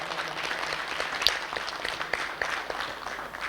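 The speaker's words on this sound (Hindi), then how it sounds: "एक बार जोरदार तालियां से आप सभी अपना स्वागत करेंगे" Audience applause welcoming the start of an FPRT program, a dense steady wash of many hands clapping at moderate level with a few sharper claps standing out.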